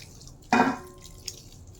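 A milk and water mixture is poured into a pot of biryani in a home kitchen, a brief splashing gush of liquid over faint background noise.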